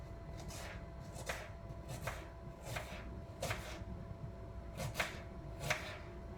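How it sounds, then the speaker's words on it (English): A knife chops onions on a cutting board in a series of about eight crisp, evenly spaced cuts, close and fairly quiet, with no talking. "Now we're gonna cut the next onions."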